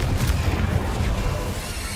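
A Confringo fire spell blast in the Hogwarts Legacy video game: a dense, rumbling explosive burst that stays loud and heavy across the whole moment, with no voices over it.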